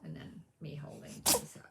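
A cat gives a single short, sharp sneeze near the end, close by, right after someone speaks.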